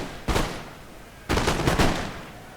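Shooter cavalry firing in a video game battle: one short burst of crackling gunfire, then a longer, denser volley of overlapping shots a second later, loud and close.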